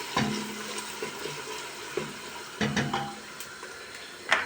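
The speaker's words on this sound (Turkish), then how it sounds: "Bir miktar da sıvı yağ koydum, kavuruyorum." Soft crackling and sizzling of onions sautéing in oil in a pan, with occasional clinks and stirring scrapes, quiet and close.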